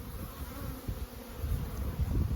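Dense buzzing of honeybees swarming around an active hive, a steady close hum that swells slightly louder toward the end.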